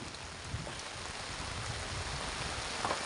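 Rain falls steadily with a soft, even patter, broken by a few faint knocks.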